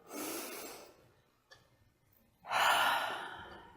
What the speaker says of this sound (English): So take a breath.